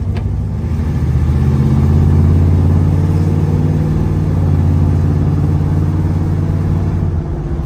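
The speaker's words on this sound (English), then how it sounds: "Monte Carlo drives straight down the road, guys." Chevrolet Monte Carlo muscle car cruising straight down the road, a steady, loud engine drone with tire and road rumble heard from inside the car, continuous with no talking.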